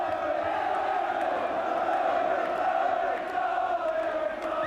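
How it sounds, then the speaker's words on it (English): A football crowd at Bloomfield Road, Blackpool, in a Fourth Division match against York City, roars loudly and without a break, a dense wall of voices cheering a goal. "To the delight of the Bloomfield Road crowd."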